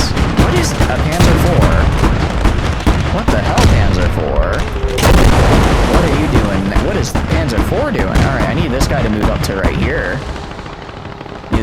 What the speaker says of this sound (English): my machine gun over here should actually be doing a pretty good job of dealing with these guys